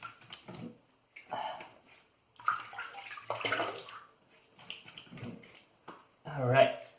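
Water running and splashing as a Razorock Hawk V1 razor is rinsed mid-shave, in short uneven bursts at close range, with a person talking quietly between them.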